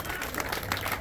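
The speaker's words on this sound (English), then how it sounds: "round of applause for Andy Goodell, State Assemblyman, floor leader." A press-conference audience applauds a state assemblyman and floor leader, a steady wash of clapping from a nearby crowd that holds for about a second without any talk over it.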